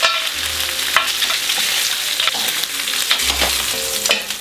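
Steady sizzling of pork osso buco searing in a hot pot, with occasional scraping and stirring clatter, continuous and fairly loud.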